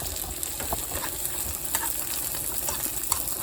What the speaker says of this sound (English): So there go my onions, and I'm gonna get those nice and seared.